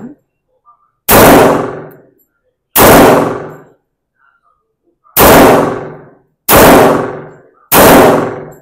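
Five loud gunshots from a Springfield Armory 1911 pistol at a shooting range, sharp close blasts with ringing decays, spaced irregularly about one to two seconds apart and isolated by silence.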